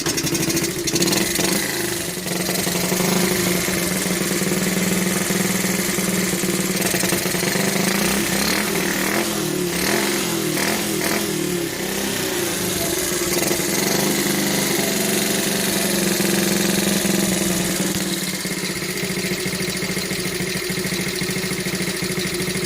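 A 1972 Honda Dax ST70 monkey bike engine, rebuilt and running without an air filter, catches and runs with a loud, steady mid-pitched putter, the revs briefly rising and falling in the middle before settling back to a rough idle.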